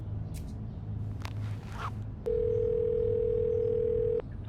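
An iPhone dialing 911 sounds a steady, clear electronic tone lasting about two seconds, preceded by faint rustling and handling noises.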